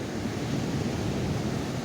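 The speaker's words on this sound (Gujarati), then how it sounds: "અને મોજા જોવો તમે." Steady roar of sea waves washing in, a dense, unbroken rush of surf with some wind noise and no voices.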